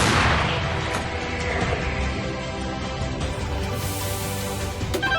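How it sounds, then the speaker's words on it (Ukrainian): A dense, rumbling barrage of booms and cracks fills the air continuously, with sharp reports cutting through a low roar of artillery cannons firing nearby in combat. "Гармата! Постріл!"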